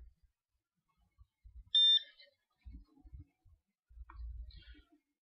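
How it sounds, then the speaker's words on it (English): A 1TouchIQ2 fingerprint door lock gives a single short electronic beep, faint and brief, amid soft low handling thumps in an otherwise quiet room. "Soon you'll hear a beep, which will indicate that the information is transferred."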